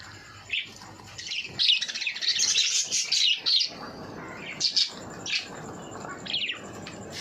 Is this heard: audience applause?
no